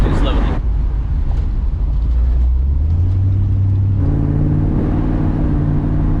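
A 1962 Chevy Impala drives along with a steady, loud low engine drone, its pitch stepping upward around the middle as it gathers speed, then settling into a heavier rumble.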